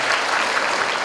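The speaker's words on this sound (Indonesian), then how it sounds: "silakan tepuk tangan tenaga medis" Audience at a stand-up comedy show claps for medical workers, a brief, dense burst of steady applause filling the room.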